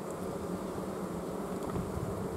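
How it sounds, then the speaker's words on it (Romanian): Honeybees in a hive making a dense, steady buzz close up, continuous with no talk. "Albina simte că urmează altă perioadă grea pentru ea, de aceea și începe să plângă acum"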